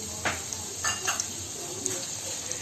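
Purple onions frying with kalonji seeds in golden oil for curried snake gourd, giving a steady close sizzle and sputter with a few utensil clinks and brief louder bursts, no talking.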